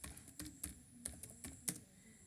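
Typing C++ code for a calculator program on a computer keyboard: about eight to ten distinct, close key clicks at a loose, uneven rhythm over soft room noise.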